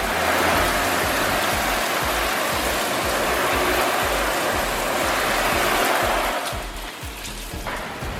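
Water sprays steadily onto a ceramic-coated car, hissing like heavy rain on the body and rear glass, loud and continuous before easing slightly near the end.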